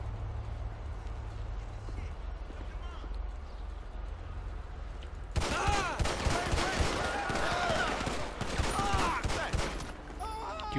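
Gunfire in GTA 5 during an LSPDFR police traffic stop, a dense run of sharp broadband shots bursting in after a quiet low hum, with speech mixed in.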